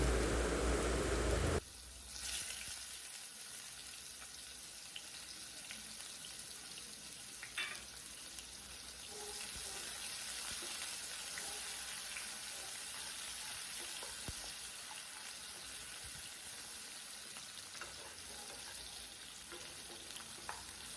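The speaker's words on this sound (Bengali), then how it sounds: "পেঁয়াজটা লাল লাল করে আমি ভেজে নেব" Chopped onions fry in oil in a pan for a mutton curry, giving a steady, close sizzle and crackle that runs without a break. A louder burst marks the start as they hit the oil.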